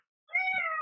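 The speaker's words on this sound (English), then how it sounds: "Sorry, there's a cat here." A single cat meows close by, one clear drawn-out call lasting about half a second, alone with no talk.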